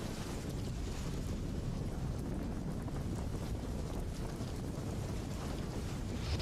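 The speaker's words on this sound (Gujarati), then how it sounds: "પવન છે, ફૂલ વરસાદ છે" Strong wind and heavy rain sweep a five-day fairground in Porbandar, where stall canopies have collapsed. A constant, dense roar and buffeting hiss carries on without a break and no voices are heard.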